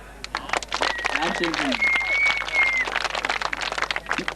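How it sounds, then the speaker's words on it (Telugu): An audience at a dance competition prize ceremony claps steadily in a crowded hall. A voice over a microphone talks over the scattered, continuous clapping. "క్లాప్స్."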